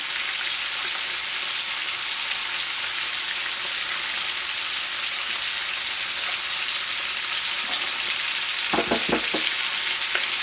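Shrimp sizzle steadily in a hot pan as lemon juice goes in, a loud, dense frying crackle throughout, with a few clattering knocks near the end.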